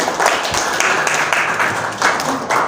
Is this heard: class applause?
yes